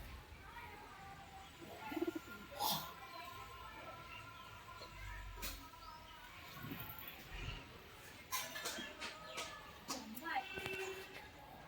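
Male pigeons of fancy breeds such as Madras and Giribaz cooing at a dealer's loft, soft repeated coos scattered across the stretch with background chatter and a few faint chirps, fairly quiet overall.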